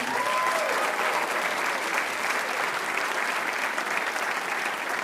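A jazz festival audience applauds the opening act, a jazz band, with a thick, sustained wash of clapping from a large crowd that stays level throughout, with no voices on top.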